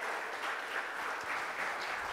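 Audience applause at a hacker conference for prize winners called up front, a steady dense wash of many hands clapping, moderately distant and even throughout.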